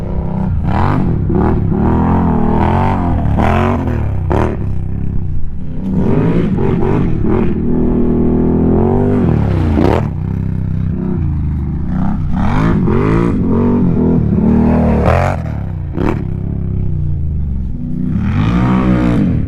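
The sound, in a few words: loud off-road vehicle revving during drag race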